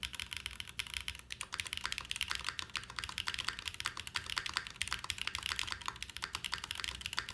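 Steady, fast typing on a spring-mounted computer keyboard, an even stream of soft non-clicky keystrokes with a faint resonance, close and continuous with no talk.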